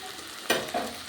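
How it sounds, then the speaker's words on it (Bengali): Onion and tomato fry in a pan for a rohu fish curry, stirred with two quick scraping strokes over a soft, steady sizzle. "একটু নেড়ে চেড়ে নেবো।"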